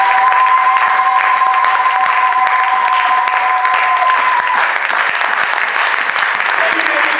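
A church congregation applauds steadily and loudly throughout, sustained clapping with a sung or held tone underneath during the first half.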